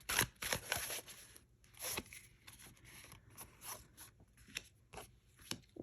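Crisp papery rasps and quick whooshing riffles of linen-finish tarot cards being shuffled, in several bursts with short pauses, close by and fairly quiet.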